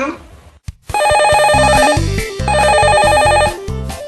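An office telephone rings loud and close with a call from head office, in a Korean consumer-affairs TV segment. Two long electronic ring bursts follow a brief clatter at the start.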